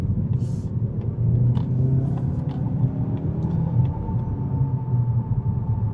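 A 2019 Mazda 3 Premium FWD sedan with a Skyactiv engine, heard from inside while driving: a low, steady engine rumble with mild rises in revs and road noise throughout, and no talking.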